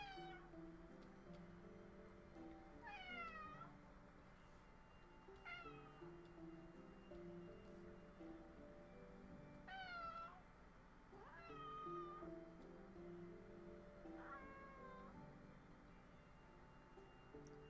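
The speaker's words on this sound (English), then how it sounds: "My cat's gonna make me look like I'm a bad person because he's gonna be meowing this whole time" A cat meows repeatedly, five or six drawn-out falling cries spaced a few seconds apart, over a faint indoor background hum.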